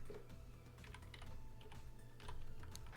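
Computer keys clatter in quick, uneven bursts as CSS code is typed, the tapping close but quiet and continuing without pause.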